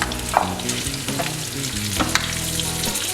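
Green chillies frying in a pan with masala for a Hyderabadi fried chilli dish, giving a steady, close sizzle with scattered crackles and stirring scrapes throughout, with no one talking.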